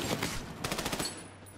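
Rapid, evenly spaced bursts of automatic gunfire in the shooter Army of Two: The Devil's Cartel, loud and continuous at first, then thinning into a quieter tail.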